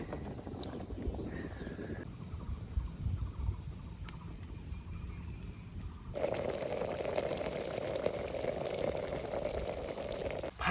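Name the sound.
handi chicken simmering in a pot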